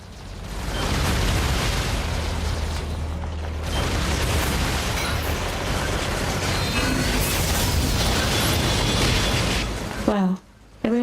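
Rocket explosions in NieR: Automata rumble and boom almost continuously, a loud, dense wash of blasts and debris with game effects that breaks off abruptly near the end.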